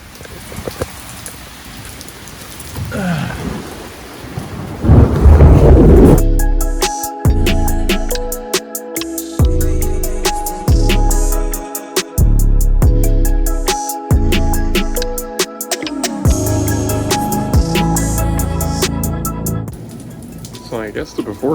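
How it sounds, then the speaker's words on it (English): Heavy rain pours down steadily on a surface during a Florida thunderstorm, loud and close, after a quieter opening with a person speaking at the start. "I hear thunder and I'm in Florida, so of course it's gonna rain right as I'm starting to do something."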